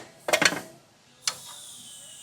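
Ratchet working the upper shock mounting bolt free on a Kawasaki Ridge during a lift kit install, a quick burst of clicking metallic ratchet strokes, then a single sharp clank after a pause, close and clear.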